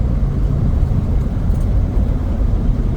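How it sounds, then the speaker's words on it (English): A steady, droning engine rumble of a truck cruising along the Denali Highway, continuous and fairly loud with no voices. "hearing the sound of the motor and the truck going down the road"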